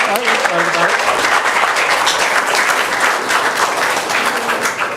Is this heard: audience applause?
yes